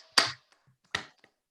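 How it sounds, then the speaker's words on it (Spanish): Two isolated hand claps sound in a quiet lecture room after a doctoral talk, each crisp and close, spaced almost a second apart with silence around them. "vamos a aplaudirla"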